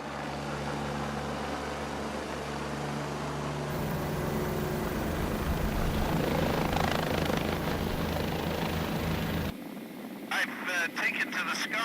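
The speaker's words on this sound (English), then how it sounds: "Taken to the skies in a helicopter to get a real sense of where the various locations my undercover team have been investigating" A helicopter flies over lion-breeding farmland, its engine and rotor drone steady and loud for most of the stretch, with a shift in tone near the end as the cabin sound changes.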